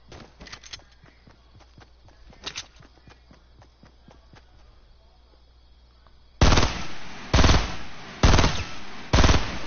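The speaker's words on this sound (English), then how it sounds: "I got this, and I got a machine gun." Machine gun fire in a PS4 video game: quiet clicks and footsteps give way to four loud, sustained bursts of rapid automatic fire, each about half a second long, close and harsh with no talking.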